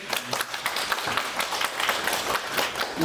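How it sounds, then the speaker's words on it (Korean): A forum audience applauds, steady dense clapping from a roomful of people, sustained and fairly loud throughout. "큰 박수로."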